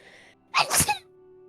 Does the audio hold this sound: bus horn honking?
no